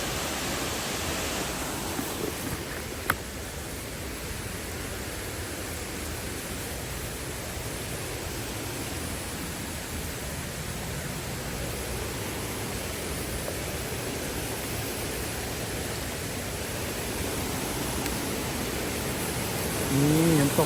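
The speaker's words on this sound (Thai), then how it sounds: "น้ำตกสวยมากทุกคนดูน้ำตกด้านล่างดิ" A strong waterfall roars as a steady, dense broadband rush that fills the whole stretch at even loudness, with no talking over it.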